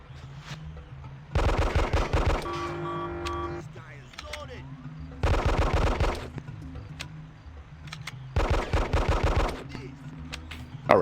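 Gunfire in the video game Hitman: Codename 47, three loud bursts of rapid automatic fire, each lasting about a second, separated by quieter stretches of game ambience and background music.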